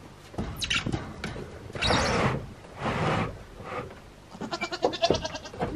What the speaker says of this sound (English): Blossom, you seem to be our most talkative goat